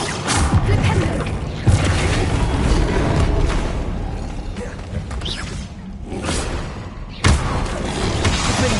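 A Flipendo spell lands in the Hogwarts Legacy video game with loud whooshing bursts and heavy thumping impacts, two sharper hits standing out against a busy, continuous game soundscape.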